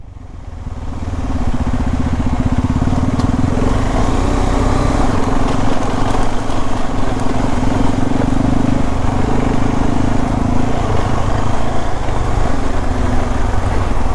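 A motorcycle engine drones steadily at close range in first gear on an off-road climb, holding a constant low rumble throughout with no voices.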